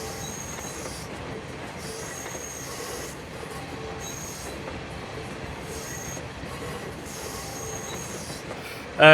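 A Sacramento Northern SN Class 1003 train runs in Train Simulator, its wheels squealing in long repeated bursts over a steady rolling rumble, loud and continuous with no talk.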